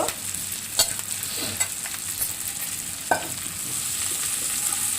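Drumstick (moringa) leaves fry lightly in a pan for a healthy breakfast dish. A steady, fairly loud sizzle runs throughout, and a few sharp clicks and spatters rise above it now and then.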